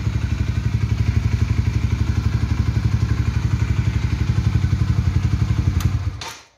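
Honda CBR 125 motorcycle engine idling cold after a long breakdown, a steady, close, fast low thumping pulse that runs evenly before cutting off and dying away near the end.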